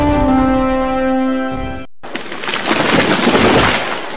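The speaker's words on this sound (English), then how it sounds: "That was the sound of a tree falling." Tree-falling sound effect in a radio ad for tree trimming: a sustained creaking, groaning tone breaks off and is followed by a loud, long crashing rush of branches and debris that stays dense to the end, with no speech.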